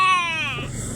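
A single high, wavering meow from a cat close by, lasting under a second.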